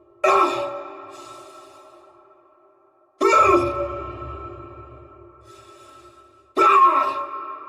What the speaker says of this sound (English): The exerted breaths didn't interject the base breathing.